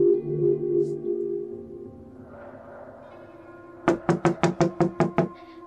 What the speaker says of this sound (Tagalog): Pagkatapos marinig ang sunod-sunod na katoka sa labas ng kanilang pintuan